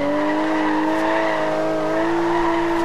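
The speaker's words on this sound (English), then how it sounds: "They just won't stop drifting." An all-wheel-drive car drifts in Forza Horizon 2, its tires squealing in a sustained, steady high whine over engine drone, loud and continuous throughout.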